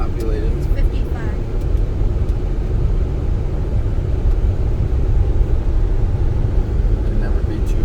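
Inside a Tesla car driving on an Alabama road, a steady, loud low-frequency road and cabin rumble runs throughout, with occasional faint voices beneath the drone.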